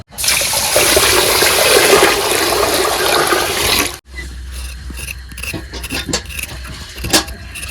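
Water gushes steadily from a tap for about four seconds to soak rice for chicken biryani, then cuts off, leaving faint drips, light clinks of a pot and small handling noises.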